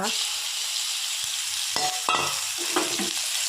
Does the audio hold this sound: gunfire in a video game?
no